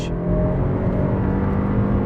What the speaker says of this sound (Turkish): Motor sesi baya güzel.